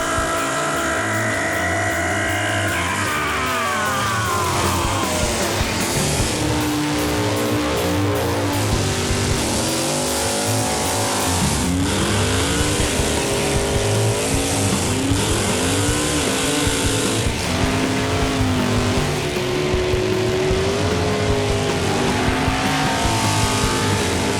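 A loud drag race car roars and revs continuously through a burnout at a Las Vegas drag strip, rising and falling in pitch with dense crowd and tire noise, sustained for the whole stretch.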